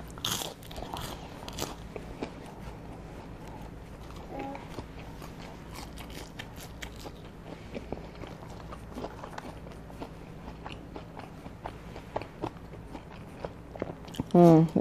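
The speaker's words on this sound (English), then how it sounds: "I think I'm like eating super fast." Fast eating of McDonald's chicken nuggets and fries, with steady close-up biting, crunching and chewing throughout. A few faint rustles and knocks sit in the background, ending on a louder thump.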